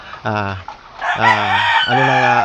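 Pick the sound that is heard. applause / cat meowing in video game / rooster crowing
rooster crowing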